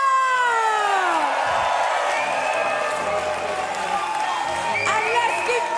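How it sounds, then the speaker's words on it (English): Crowd at a chessboxing bout cheering and clapping for the fighters after a first-round knockout, a steady loud roar of applause and shouts throughout, with an announcer's voice ringing over it at the start. "let's give both our fighters an amazingly big round of applause"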